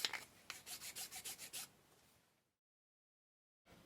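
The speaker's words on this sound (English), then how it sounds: "And then you simply take a file and file to that line" Hand file rasping along a wooden piece during a ship model build, about nine quick, even strokes close up, then silence.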